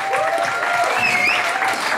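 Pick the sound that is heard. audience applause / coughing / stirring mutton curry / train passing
audience applause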